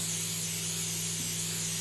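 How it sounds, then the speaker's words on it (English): Cooking oil spray hissing steadily from an aerosol can onto a focaccia baking pan, a close continuous broadband spray lasting the whole moment. "I always spray and I oil."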